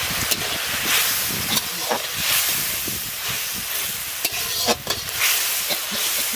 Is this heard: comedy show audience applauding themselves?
no